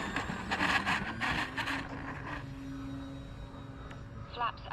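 A small electric RC Tecnam model plane from Arrows RC lifts off with takeoff flaps set on a windless evening, its motor whine rising then fading with distance, outdoors amid faint background noise.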